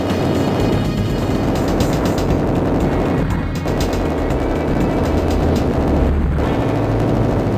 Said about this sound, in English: Explosions, chaos, and mayhem caused by a 50-foot robot with machine guns.